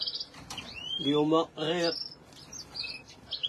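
Hybrid goldfinch and canary crosses chirp in short bright twittering bursts and trills, close by, with a voice speaking briefly in between.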